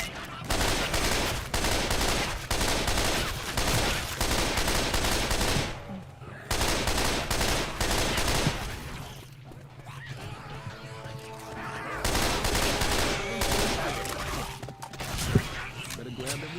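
Bursts of automatic gunfire from the zombie shooter Left 4 Dead 2, dense rapid volleys repeating across the clip with short gaps, with players talking over the shooting.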